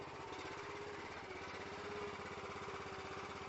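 Anderson IFX-660 extractor engine rumbling steadily close by, a continuous low throbbing idle that holds its pulse throughout with no talk over it.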